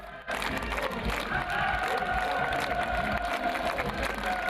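A large crowd in North Korea applauds and cheers for Kim Jong-un, a dense, continuous roar of clapping and voices sustained throughout, with a faint chant-like tone rising in the middle.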